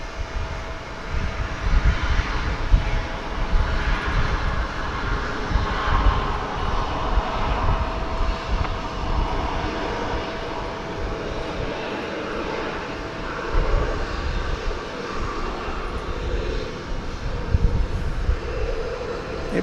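A Suparna Airlines Boeing 747 cargo jet at DFW Airport gives a steady, loud engine roar that holds for the whole stretch, swelling slightly at moments, with no voices over it.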